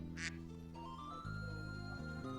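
A voice imitates a duck with nasal quacking calls, close and fairly quiet, a few drawn-out honks in sequence with no other talk.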